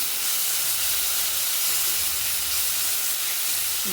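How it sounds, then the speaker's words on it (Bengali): Boiled, ground taro leaf paste goes into hot oil tempered with cumin, giving a loud, continuous steamy hiss and sizzle that holds steady for several seconds, close up with no talking. "কচু পাতা সেদ্ধ করে নিয়ে বেটে নিয়েছি, সেই বাটাটা দিয়ে দিলাম।"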